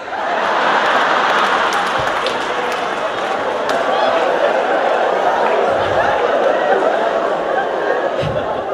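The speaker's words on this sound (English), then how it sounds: "Junaid, you clapping like you did that" Audience clapping at a live stand-up comedy show, a steady dense patter of applause mixed with laughter that runs the whole time at fairly close range.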